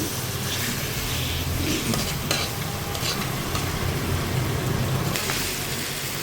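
Chicken khichuri ingredients being stirred and fried in a pot, a steady close sizzle with scraping stir strokes throughout, no talking.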